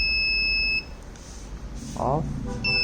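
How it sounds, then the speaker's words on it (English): A Raspberry Pi obstacle alert buzzer triggered by an IR sensor sounds a steady high-pitched electronic beep, cuts out, then returns, with a brief low murmur and faint background noise in the gap. "then the buzzer gets on"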